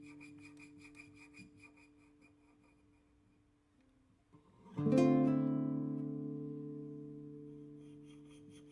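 A classical guitar is played with a scratching technique: faint rasping scrapes over quiet sustained tones, then a sudden loud struck chord that rings out and slowly decays.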